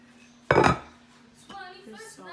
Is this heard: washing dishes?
yes